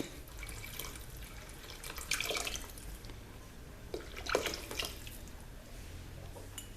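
Cherry juice from a bottle of cherries pours into a pan of ham glaze with a faint, continuous trickle, swelling briefly in two stronger splashy gushes before settling back, with no talking.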